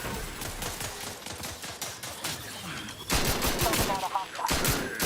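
Rapid automatic gunfire in The Outer World 2, dense volleys that grow louder and heavier in the second half, mixed with game sounds and a brief voice.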